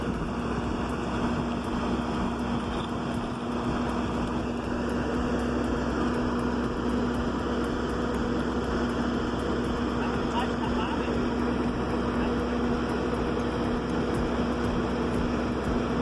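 A Fiat 100/90 tractor engine working in thick mud gives a steady, unbroken drone that holds at one level throughout, with a voice talking over it.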